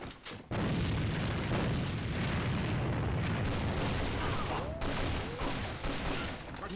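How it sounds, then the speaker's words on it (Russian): In the AVA shooter game, a dense, continuous barrage of gunfire mixes with booming grenade explosions, loud and sustained throughout with no pause. "Бросаю гранату!"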